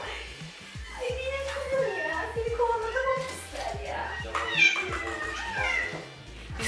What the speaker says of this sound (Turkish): Kediye bakın.